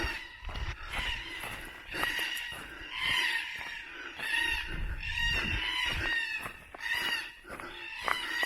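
Several black cockatoos call from trees along a bush walking trail in a steady run of harsh, wailing screeches that overlap continuously, fairly distant and outdoors.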